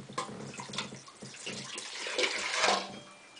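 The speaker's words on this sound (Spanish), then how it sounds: "Retiramos el agua." Water poured out of a container, close splashing and gurgling that swells toward the end, fairly quiet, with no talk.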